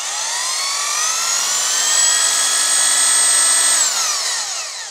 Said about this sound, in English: what you need to do first is drill a little hole here at the top